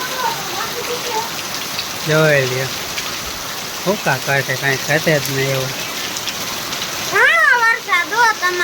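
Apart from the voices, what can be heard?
heavy rain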